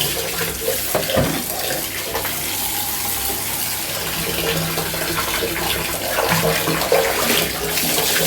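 Cold tap water runs and splashes steadily while a baby is washed on a hot day, a continuous close gush with small shifts in the pouring.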